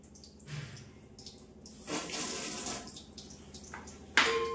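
Tap water runs into bottles, a steady rushing pour that swells and fades over several seconds at close range, ending with a sharper splash of water.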